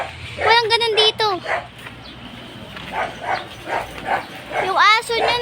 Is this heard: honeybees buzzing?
no